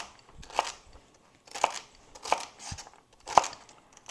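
Fresh celery is chopped for split pea soup in four or five crisp, crunchy cuts spaced roughly a second apart, close and fairly quiet with no talking.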